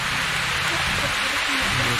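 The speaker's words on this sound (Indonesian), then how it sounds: "Tapi belum cukup 2 menit tiba-tiba hujan turun lagi." Steady rain pours outdoors, a dense, even hiss of falling water that fills the whole stretch without a break.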